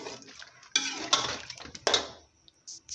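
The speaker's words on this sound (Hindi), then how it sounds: "हमने इसके अंदर 2 गिलास पानी डाला है" Water poured from glasses into a pot of chicken haleem, two distinct splashing pours in quick succession with a brief clink of utensils and some drips as it settles.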